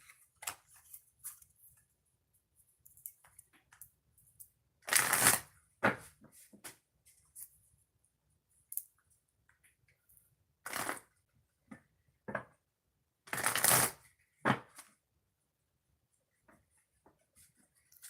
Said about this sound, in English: Now I'm going to shuffle the deck